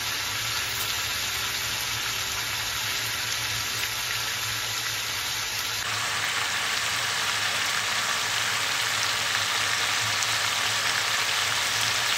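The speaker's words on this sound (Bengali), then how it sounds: "তো চিকেনটাকে এই পেঁয়াজের মধ্যেই ভালোভাবে আরও বেশ 10 মিনিট মতো ভালোভাবে ঢাকা দিয়ে কষিয়ে নিতে হবে।" Chicken fries with onions in a covered pan for a homestyle curry, giving a steady, loud, continuous sizzle with no pauses and no talk.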